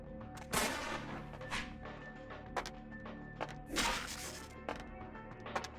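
Gunfire aimed at the player in Vampire: The Masquerade – Bloodlines, heard as several sharp, scattered shots with thuds in between, fairly loud against a low game background.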